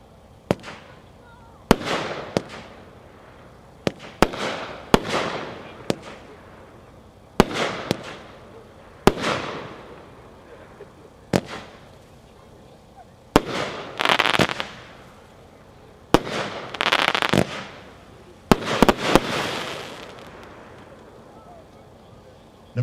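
A 16-shot Dementor firework cake by Epic fires in a series of sharp launch thumps, each followed by a crackling, hissing burst that fades, repeating at irregular intervals outdoors, with faint voices in the background.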